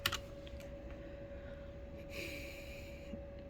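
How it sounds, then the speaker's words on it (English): A few quiet keystrokes and clicks sound on a computer keyboard at close range, sparse and uneven, over a faint steady electrical hum. "Oh, why am I typing so bad?"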